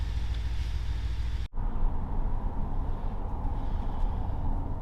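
Car with a ZF 8HP automatic transmission on a test drive while suffering harsh gear-shift shocks, a steady low engine and road rumble from inside the cabin, broken by one brief dropout.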